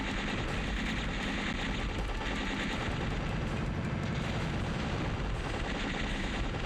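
Continuous bomb blasts and rapid gunfire from the shooter game Legend of the Steel Empire form a dense, unbroken barrage of pops and booms, loud and steady throughout.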